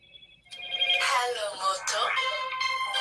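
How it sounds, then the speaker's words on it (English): A phone ringtone plays loudly and close, a repeating electronic melody that starts after a brief quiet moment and continues to the end. "the phone always rings when I'm trying to go live."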